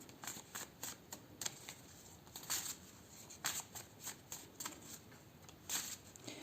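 Oracle cards being shuffled by hand: a quiet, steady series of short papery riffles and slaps that repeat throughout, with no voices.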